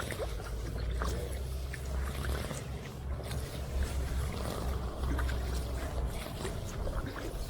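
Canoe gliding along the River Medway near Wateringbury on an evening outing, with a steady low rush of water and faint paddle splashes and trickles running continuously, close by, with no talking.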